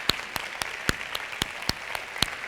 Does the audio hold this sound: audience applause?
yes